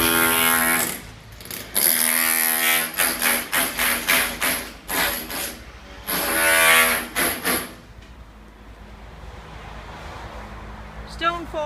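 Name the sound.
construction drilling noise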